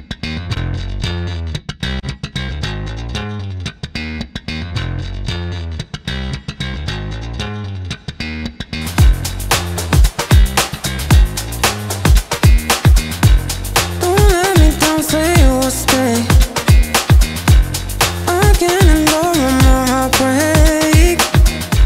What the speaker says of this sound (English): I wonder what happens if we just copy that Space Rider over to the bass from the drums.